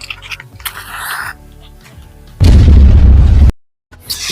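A firecracker bursting at a Diwali shop, heard as a loud, close roaring blast that lasts about a second, then cuts off abruptly. Clatter and noisy shop commotion come before it.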